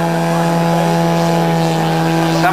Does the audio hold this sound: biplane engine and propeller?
yes